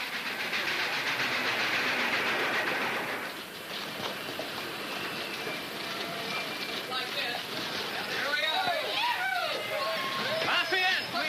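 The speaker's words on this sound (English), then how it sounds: "The train's late." A train rumbles and hisses, with metallic clatter and squealing brakes as it slows; voices speak over it.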